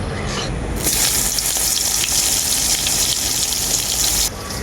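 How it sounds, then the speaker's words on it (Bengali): Soaked and drained soya chunks hit hot oil for khichuri, bursting into a loud, dense, close sizzle that holds steady, then drops off sharply near the end, with no voices. "এরপর সয়াবড়িটাও ভেজে নেবো"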